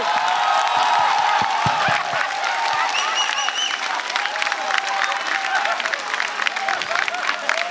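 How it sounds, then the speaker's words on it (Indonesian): Studio audience at an Indonesian stand-up comedy competition show applauding comedians Ramos and Wahoy, a loud sustained wash of clapping with scattered cheers and whoops, no talking. "Tepuk tangan untuk Ramos dan juga Wahoy"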